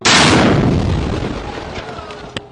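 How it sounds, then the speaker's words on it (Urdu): A bomb goes off in a mosque beside a madrasa in Peshawar's Dir Colony: one sudden, loud boom followed by a long, fading rumble and a faint sharp crack near the end. "زوردار دھماکہ ہو گیا"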